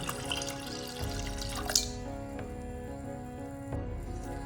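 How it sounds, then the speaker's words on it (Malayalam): Cold water pours into a pot of boiled macaroni, a soft continuous splashing and trickling close by with a brief sharper splash early on. "അതിലേക്ക് നമുക്ക് കുറച്ച് പച്ചവെള്ളം ഒഴിച്ചു കൊടുക്കാം."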